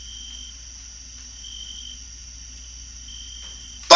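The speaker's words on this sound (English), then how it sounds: "you're going to hear nothing but crickets" Crickets chirp as a sound effect, a thin, steady high trill with faint repeating pulses roughly once a second, quiet and alone, ending in a sudden loud click.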